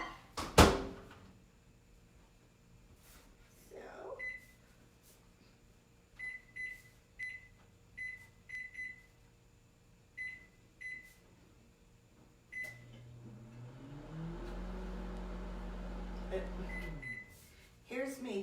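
A home microwave oven is operated for candy making: a door thunk, a series of short keypad beeps, then a steady low hum as it runs for a few seconds before stopping, with a voice talking quietly at times.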